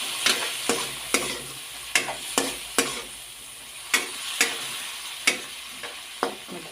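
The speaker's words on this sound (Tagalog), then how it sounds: "ilagay na po natin ang toyo mga kaibigan. Ayan, may toyo tayo dito" String bean adobo sizzles in a pan as soy sauce goes in. A steady frying hiss runs beneath a dozen sharp, irregular clinks of a utensil scraping and stirring against the cookware.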